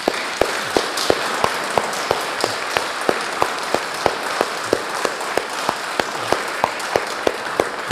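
A congregation claps for a preacher during a church service, a steady run of sharp, evenly spaced hand claps filling the room with no voices over it.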